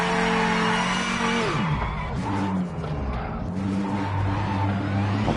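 A Viper race car in Project Motor Racing locks its brakes with no ABS, the engine note dropping sharply as tires skid and scrub, followed by a lower uneven engine drone, loud and close, no talking.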